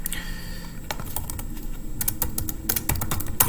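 Rapid keystrokes on a computer keyboard as a search term is typed into an art search tool, uneven clicks in short bursts, close and fairly clear over a low background hum.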